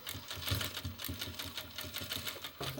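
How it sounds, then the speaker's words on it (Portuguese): Sewing machine stitching a fabric toiletry bag, a fast steady mechanical chatter of the needle running continuously for a few seconds, close and clear, with a brief shift in tone near the end. "Vou costurar."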